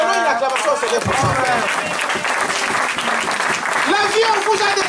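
A church congregation claps and cheers in praise, sustained loud applause throughout with voices and a speaker talking over the crowd.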